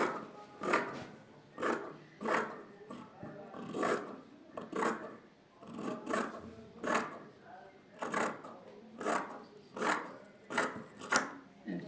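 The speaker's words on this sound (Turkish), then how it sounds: "Şu ikinci çizgimden kesiyorum etek boyumu." Scissors cutting chiffon dress skirt fabric along a marked line, a regular series of crisp snipping strokes about once a second, close and clear, with no voices.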